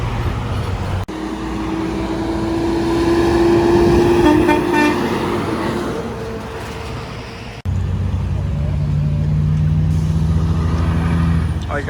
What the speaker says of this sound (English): Oh, yeah, train horns!